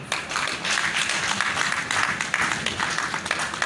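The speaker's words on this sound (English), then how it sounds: "A round of applause, please." An audience claps through a university alumni event hall, a steady, dense spatter of applause that holds at an even level with no talk over it.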